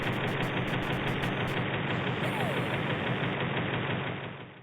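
Tank boss battle in the Antonball Deluxe video game: a loud, steady rumbling engine drone with a knocking, mechanical texture that runs continuously for several seconds before tapering off at the end.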